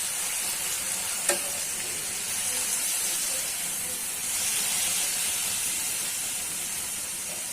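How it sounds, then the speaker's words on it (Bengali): Small river shrimp dusted with turmeric fry in hot oil, giving a steady, close sizzle and hiss with one brief clink of a utensil near the start, no talking. "চিংড়ি মাছটা ভাজা হয়ে যাবে"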